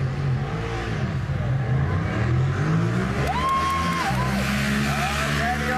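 Kawasaki drag bike launching at a beach drag strip event, engine revving hard with a rising then falling whine over a steady low roar, loud and close, with other engines droning underneath.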